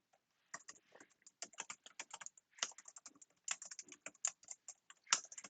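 Computer keyboard keys clack in quick, irregular bursts as code is typed, close and crisp, with short pauses between runs of keystrokes.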